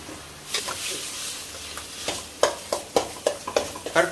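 Mashed potato filling for vada pav being stirred together with turmeric, cumin and salt in a bowl, giving a series of soft, wet scraping and slapping strokes that grow more regular toward the end, with faint background noise.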